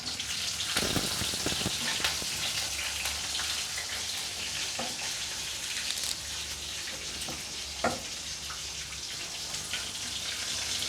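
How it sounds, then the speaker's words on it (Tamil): Green chillies, split in two, sizzle and fry steadily in hot oil for a tempering, with a continuous loud crackle and a few sharper pops throughout. "எண்ணெய் காஞ்சிட்டு தாளிப்பு போட்டுக்கலாம் மூணு பச்சை மிளகா எடுத்து ரெண்டாக வந்து திருக்கம் போட்டுக்கலாம்"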